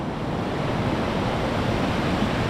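Glacier meltwater river rushing through Dong Valley near the China border in India, a steady, dense broadband roar of flowing water with no pauses, loud and close.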